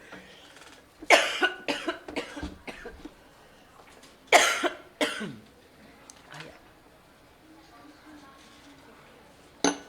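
A person coughs in a formal Hague Convention session on legislation, giving a series of harsh, close coughs in two bursts with faint room noise between, under light handling and clinks but no clear talk.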